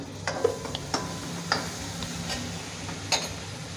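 A spoon stirring chopped onion and tomato with coriander powder in a pan, giving soft sizzling under a few sharp scraping clicks spaced irregularly.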